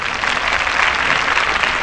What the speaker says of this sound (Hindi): ताली तो बजा ली।